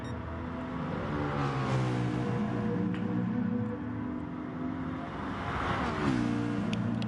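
Gr.4 race cars in the Gran Turismo Sport video game: a steady, close engine drone whose pitch climbs and dips through gear changes, with another car's note layered in and no talking.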